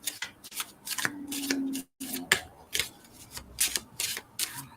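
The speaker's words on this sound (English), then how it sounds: "I'm going to shuffle just a little bit, split the deck open" Tarot cards are riffled and shuffled in a few quick bursts, brisk papery flutters close by, separated by short pauses.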